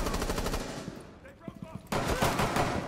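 Rapid automatic gunfire in Rainbow Six Siege, loud, close bursts before and after a short lull.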